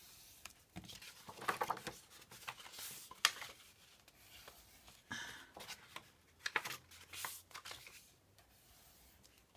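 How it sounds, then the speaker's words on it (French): Paper being creased along its folds, close and quiet, with a run of crisp rustles, crinkles and short pressing strokes in an uneven rhythm. "Vous marquez vos plis. Hop, tous vos plis."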